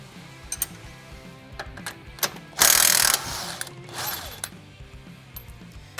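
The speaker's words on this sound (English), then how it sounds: "17mm socket on a ratchet of some sort for the upper bolt. So go ahead and start by taking the lower bolts off." A ratchet with a 17mm socket clicks as it loosens shock bolts on a Kawasaki Teryx H2 side-by-side, giving close, rapid ratcheting bursts with a louder burst in the middle and scattered metallic clinks around it.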